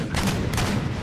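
An artillery volley in the video game Empire Total War booms out as a dense, continuous roar of overlapping cannon blasts, loud and close, filling the whole short burst without talk.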